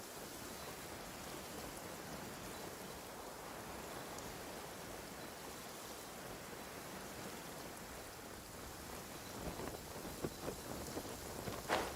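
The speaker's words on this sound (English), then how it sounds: "Let us find shelter from the rain." Rain in the video game Genshin Impact, a soft, steady wash of falling drops that stays quiet and even, with a few slightly louder spatters toward the end.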